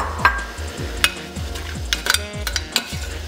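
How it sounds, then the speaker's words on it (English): A lemon mixture with champagne bubbles in a pan, a soft sizzle under a repeated low rhythmic pulsing, with a few sharp clicks and clinks of utensils against the pan. "And I'm just going to let that simmer down and reduce a little bit"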